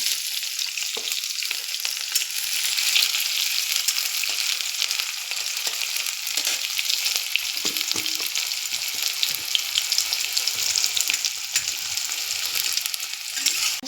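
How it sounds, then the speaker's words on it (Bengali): Chopped onion and green chilli fry in hot oil, giving a steady, loud, continuous sizzle that runs unbroken throughout, with occasional light stirring clicks and no voices. "তেলটা গরম হয়ে গেছে, এর মধ্যে এখন পেঁয়াজ কুচি আর লঙ্কা কুচি দিয়ে দেব।"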